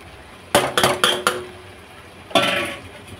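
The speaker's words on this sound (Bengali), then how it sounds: "এবার ভেজে রাখা আলু আর এঁচড় দিয়ে দেবো" Fried potato and jackfruit being added to prawns in a pan, with a quick run of four metallic clinks and clatters, then a pause and one more clatter, close and without talk.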